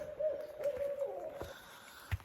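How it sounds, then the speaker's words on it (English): An owl hoots from up in the trees of Hocking Hills State Park woods, a few soft, wavering hoots at a distance, with a faint snap or thump toward the end. "Just heard an owl up there."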